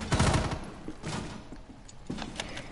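Squad gunfire in a video game: loud, close bursts of rapid shots at the start, followed by a few scattered single shots and short volleys over a few seconds.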